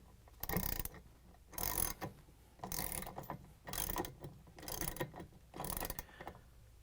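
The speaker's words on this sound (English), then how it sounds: "grab the ratchet with the extension and the 17mm socket and tighten it down" A ratchet with an extension and 17mm socket clicks in six evenly spaced bursts while tightening a nut on a Samsung washer clutch assembly, each burst a rapid, close, crisp train of pawl clicks.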